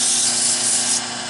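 120-grit sandpaper rasps against a turned wild cherry wood bowl in a steady, close, hissing rub that eases off slightly near the end.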